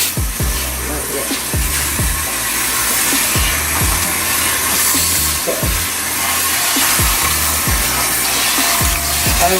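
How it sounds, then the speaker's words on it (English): Water running over hair during a salon hair wash, a loud continuous spray and rush with occasional low thumps and handling noises throughout. "I'm just making sure the water gets all over, even into the scalp, into the hair."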